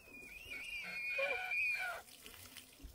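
Running water sprays steadily for a small child's shower, with a high, wavering squeal or voice-like tone riding over it for about two seconds before it quiets.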